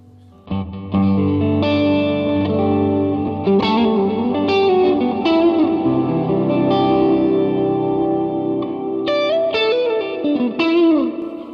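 Electric guitar played through a Jet Pedals Revelation reverb pedal on its long algorithm: sustained chords and single notes ringing out in a wide, lingering wash of reverb, loud and continuous with no talking.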